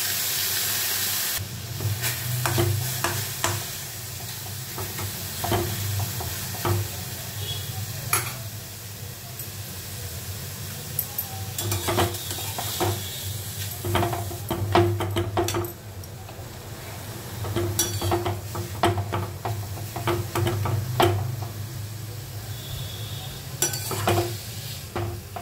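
Pineapple pieces cooking in a hot wok for chutney, with a continuous hiss and sizzle under repeated sharp clinks and scrapes of a spatula against the metal, close by and without talk.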